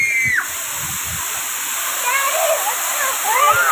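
Thalakona waterfall roars in a steady, loud rush of falling and splashing water, with voices talking over it in the middle and a few short thuds near the start.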